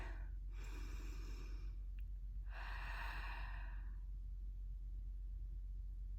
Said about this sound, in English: I just take a deep breath